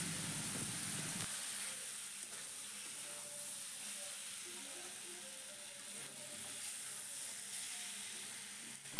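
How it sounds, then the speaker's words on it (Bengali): Spiced mixed vegetables cooking in a pan with a splash of water, giving a steady soft sizzle and hiss throughout, with faint stirring scrapes near the pan and no talking. "এখন এর মধ্যে একটু জল দিয়ে মশলাটাকে খুব ভালো করে কষিয়ে নেব"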